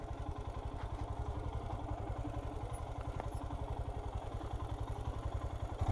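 A Royal Enfield Himalayan motorcycle engine runs close by in a steady, even chugging rhythm, like a low-speed idle, loud and alone with no talk.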